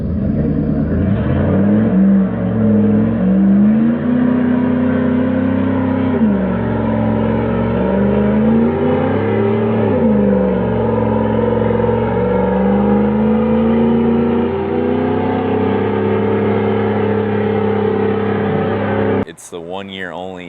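A 1998 Jeep Grand Cherokee ZJ with a 5.9 V8, on 35-inch tires with long-arm suspension, rumbles steadily and loudly with its engine note rising and falling through several revs over about nineteen seconds before cutting off abruptly.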